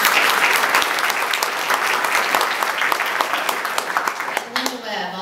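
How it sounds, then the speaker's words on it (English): Audience at a divisional breakfast applauding steadily, dense clapping that fades near the end as a voice begins speaking. "Let's applaud her."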